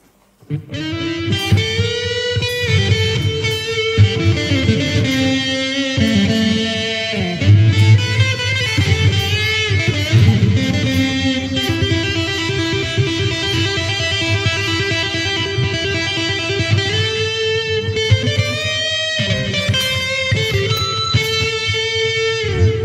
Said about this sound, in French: Ça, c'est ce qu'on appelle la distorsion.